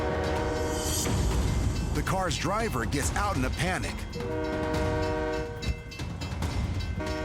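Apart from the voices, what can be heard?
train approaching with horn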